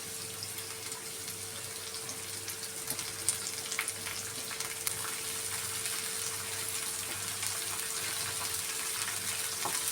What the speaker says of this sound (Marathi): आता ह्याच्यात आपण बारीक चिरलेली शापू टाकूया.